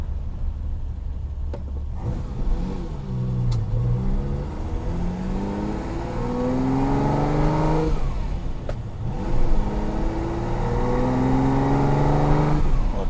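A Ferrari 365 GT2 Plus 2, engine still cold with chilly carburetors, revs up and drives off, its pitch rising and falling through several gear pulls, moderately loud and close.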